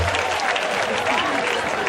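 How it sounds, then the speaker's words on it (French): A church congregation breaks into loud, dense applause and cheering to acclaim the Lord during a special sprinkling ceremony, close and continuous with a few voices mixed in. "On acclame le Seigneur."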